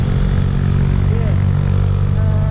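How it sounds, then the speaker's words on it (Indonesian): Strong wind buffets a motorcycle rider's helmet microphone on a Yamaha Old NMAX scooter, a loud low rumbling roar that continues without a break. "Terus anginnya juga agak kenceng."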